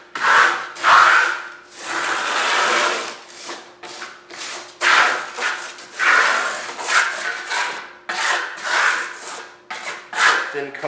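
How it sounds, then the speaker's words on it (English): A trowel spreads a thin coat of material over a reclaimed wood surface, making loud, rhythmic rasping scrapes in long repeated strokes. "Then we're going to trowel this out. I want to spread it over the whole thing first."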